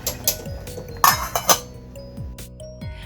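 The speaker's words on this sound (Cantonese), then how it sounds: "攪勻佢呢就可以閂蓋啦" A lid is set onto a pot of papaya and snow fungus soup, giving a few light metallic clinks and two sharper clanks close by, with quieter handling noise between them.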